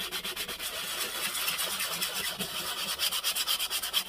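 A restored Stanley 4 1/2 hand plane shaves across a workpiece, making a steady, rhythmic rasping swish of repeated strokes, fairly quiet and close, with no talking.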